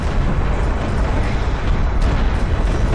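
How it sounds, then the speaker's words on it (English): Artillery barrage explosions in a Homeworld: Deserts of Kharak strategy game strike an assault ship, a continuous dense rumble of booms and bursts, loud and sustained throughout with no talk. "Barrage is coming in. Lands directly on the assault ship."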